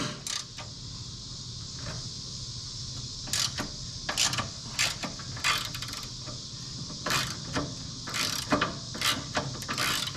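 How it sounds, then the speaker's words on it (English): A T45 driver and a 9/16 wrench work the front bolt loose on a 2021 Harley-Davidson Road Glide, with scattered metallic clicks and ticks over a low steady hum, close up. "crack the front loose. That is done with a T45 and a 9/16 wrench"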